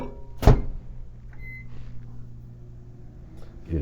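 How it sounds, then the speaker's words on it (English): A sharp clunk, then a steady low appliance hum with a faint beep, like a microwave running, and another knock at the end. "give it a couple more seconds in the microwave"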